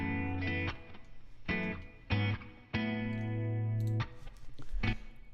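Electric rhythm guitar recorded dry with no post-processing, heard up close in a pattern of short stabbed chords followed by longer ringing chords, alone and fairly loud.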